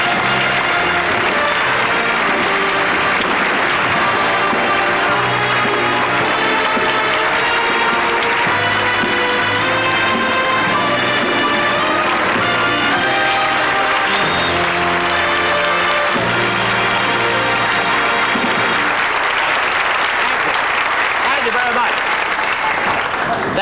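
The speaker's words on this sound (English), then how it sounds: "That applause is wonderful." Big studio audience at a 1977 all-star television tribute giving a long, loud, sustained round of applause with some cheering, continuous throughout over band music.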